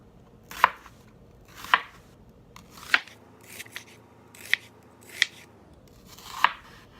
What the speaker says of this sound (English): So I'm just gonna cut it into smaller pieces.